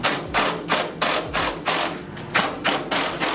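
An impact driver hammers a fender flare bolt tight on a Jeep Wrangler JK, a rapid series of about ten loud, close rattling bursts in a steady rhythm, with no talking.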